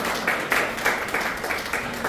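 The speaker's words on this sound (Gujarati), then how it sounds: "આપણે તેનું અભિવાદન તાળીઓથી પણ કરીશું." Audience applause at a Good Samaritan Award ceremony in Nadiad, heard as a steady wash of clapping from a crowd, with soft bursts swelling roughly every quarter second over a constant background.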